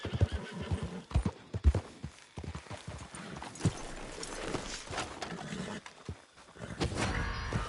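A horse whinnies loudly amid a busy clatter of hoofbeats, with rumbling movement and commotion throughout, in the video game Red Dead Redemption 2.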